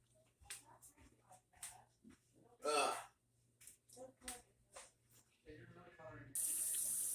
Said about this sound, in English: you want the water to be running. You want to fill up this sink full of water, hot, soapy